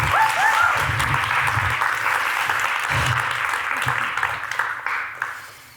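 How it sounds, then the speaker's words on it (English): Audience applause welcomes speaker Shahad Ali at a live women's event, steady and full from the start before thinning and tapering off near the end. "Please give a warm applause for Shahad Ali."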